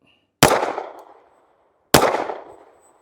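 Two sharp .380 ACP pistol shots fired with Winchester 95 gr ammunition at an indoor range, spaced about a second and a half apart, each a loud close crack trailing into a short decaying echo.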